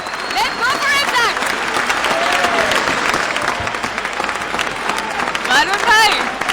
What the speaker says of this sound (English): I want you all to cheer us up.